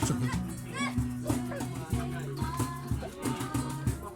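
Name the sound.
dog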